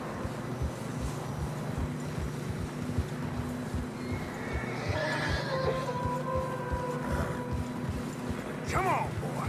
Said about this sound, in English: Come on, boy. Horses are getting tired.